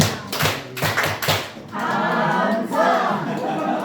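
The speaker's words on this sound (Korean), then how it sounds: "이번에는 칭찬 박수가 아니라 감사 박수로 드리도록 하겠습니다" A church group claps together in thanks to a pastor at a discipleship course closing: a few sharp synchronized claps first, then a sustained burst of group applause with some voices.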